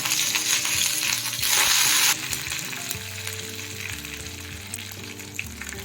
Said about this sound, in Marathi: कढीपत्ता फ्राय करून घ्यायचा आहे